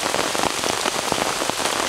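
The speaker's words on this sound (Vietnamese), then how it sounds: "Mà trời thì đang mưa rất là to rồi mọi người ơi." Heavy rain pours down in a cold forest, a dense, steady hiss of drops beating on leaves and surfaces close by, with no voices.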